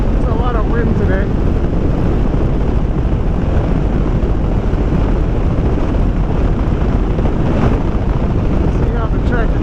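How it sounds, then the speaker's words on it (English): Heavy wind noise roars constantly over a motorcycle rider on a rural country road past farms near Gainesville, Florida, a loud unbroken rush that buries nearly everything else. "There's a lot of wind today."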